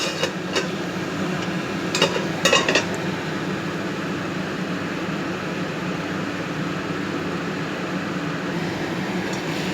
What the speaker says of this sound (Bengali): এবার এটাকে ভালো করে কষিয়ে দেবো।